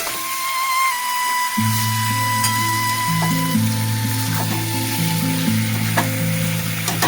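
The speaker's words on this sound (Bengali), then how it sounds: "বসে এটা একটু ভাজা ভাজা তুলে নেব চিকেনটাকে।" Salted chicken pieces sizzle in a pan while being browned for chicken kosha. A sharp, loud frying hiss starts after a quiet moment and holds steady, with stirring and occasional clinks.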